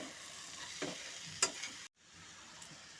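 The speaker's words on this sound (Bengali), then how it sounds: "এখন সমস্ত মশলার সাথে বাঁধাকপিটাকে ভালো মতো করে মিশিয়ে নেব" Cabbage with spices stirred in a frying pan over medium heat, a faint steady sizzle broken by a few scraping strokes of a utensil and a brief dropout, close and quiet.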